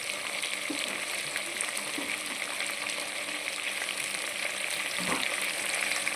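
Steady, even sizzling of onions and vegetables frying in a pan for khichdi, with a few soft stirring clinks over a constant hiss and no talking.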